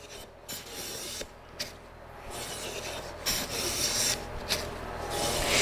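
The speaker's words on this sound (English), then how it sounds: "this board is wider than the plane, as you can see, so I'm going to have to do it in two passes" A hand plane shaves a wooden board wider than its sole, worked in two passes; repeated rasping strokes, close and fairly loud, with brief pauses between pushes.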